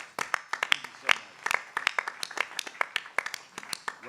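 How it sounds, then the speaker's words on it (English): A modest crowd at a California State Assembly committee hearing on higher education claps for college presidents and chancellors, in a scattered, uneven round of applause with sharp individual hand claps close by. "Let's give them a round of applause"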